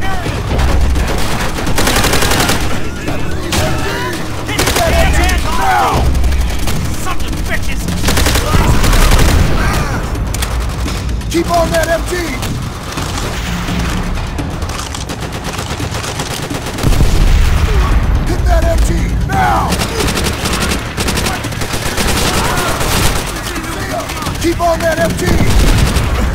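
Machine gun fire in the World War II shooter World at War, with bursts of gunfire and booms running through a dense battle mix across the whole stretch, loud and close, with shouted voices mixed in.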